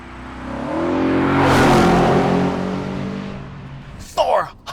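A 2013 Audi RS5 with a 4.2-liter V8 and seven-speed dual-clutch transmission accelerates hard, its engine note swelling to a loud roar and easing off, followed by a short voice.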